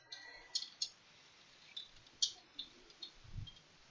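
Computer keyboard keys tapped while typing an email reply, a few quiet, sparse clicks spaced irregularly against a faint background hiss.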